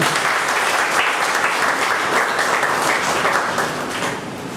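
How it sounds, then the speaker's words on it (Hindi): A crowd at a community anniversary celebration claps in loud, dense applause that rolls on steadily for several seconds before easing slightly at the end. "तालियों के स्वागत का स्वागत करें"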